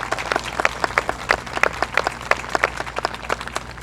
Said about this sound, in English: let's give these young ladies a big round of applause